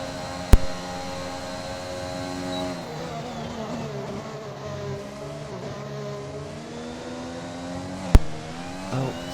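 An Alfa Romeo racing car lapping a circuit in Saudi Arabia, heard on board: the engine note climbs and drops through gear changes, loud and close, with two sharp clicks.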